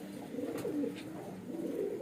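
Faint, soft pigeon coos drift through a quiet loft where colorful fancy pigeons are kept, a few low murmuring calls with no voices.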